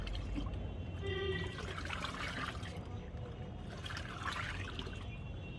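A mug of water mixed for plant care is poured out in a faint, steady trickling splash that carries on for several seconds.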